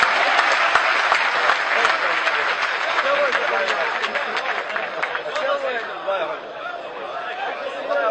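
An audience at a poetry recital gives a burst of dense, steady applause that lasts throughout, mixed with some crowd chatter and a little laughter.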